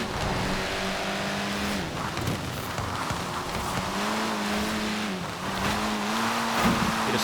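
A Fiat Abarth 131 rally car in a racing video game, its engine droning loud and steady with rising and falling revs, sliding through corners with tire squeal over continuous road noise.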